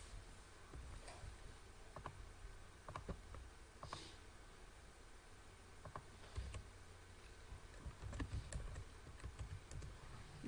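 Keyboard typing during a physics tutorial on Coulomb's law, a quiet scatter of soft key clicks in irregular bursts over a low room hum, fairly faint and without talk.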